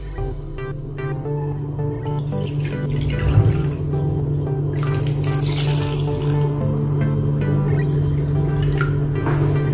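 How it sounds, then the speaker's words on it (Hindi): Water pours steadily into a cooking pan of spicy rice, a continuous splashing trickle with some clinks of a utensil, no speech. "अभी हम इसमें पानी डालेंगे।"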